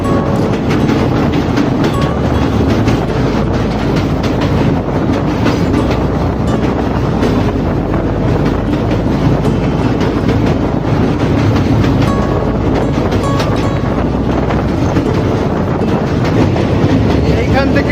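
Inside a running Patna–Puri special express passenger train on the Asansol to Puri route, a loud, steady rumble and rattle of the carriage holds throughout, with faint rhythmic clatter.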